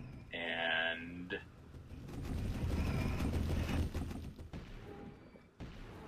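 Gunfire in the survival horror video game Lone Survivor: a burst of game shots and rumbling booms runs for several seconds, loud and dense, after a brief voice near the start.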